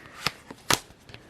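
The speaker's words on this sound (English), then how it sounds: "let me shuffle that" Tarot cards are shuffled by hand in a few quick, soft riffling bursts, close and faint in a quiet room.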